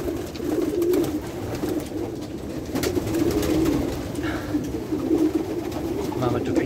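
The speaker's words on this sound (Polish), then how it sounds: "Piękne gołąbki, zobaczcie." Pigeons coo softly and repeatedly in a low, murmuring flock, with a person talking faintly over the steady cooing throughout.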